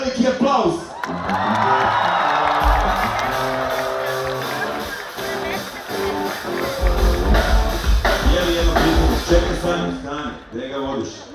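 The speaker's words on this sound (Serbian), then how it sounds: "Dajte mu veliki aplauz." A concert crowd roars with cheering, whoops and applause, swelling loudly and staying dense for several seconds before tapering off toward the end.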